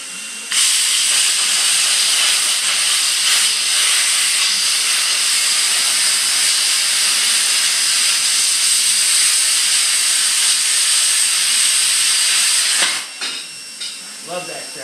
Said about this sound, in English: I think I got an air leak and something making a noise.